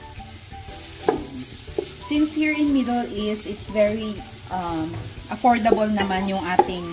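Chopped shrimp sautéing with onions in a pan, a continuous frying sizzle with occasional stirring scrapes running underneath a person talking throughout.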